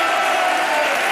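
A French television studio audience applauds for a guest, giving a loud, dense burst of clapping that holds steady throughout.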